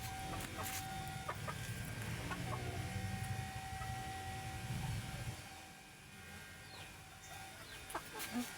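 Ducks calling on a farm, clucking and squawking steadily in the foreground amid a busy rural soundscape, with chicken-like calls and background hum; the birds grow quieter near the end before a few more calls.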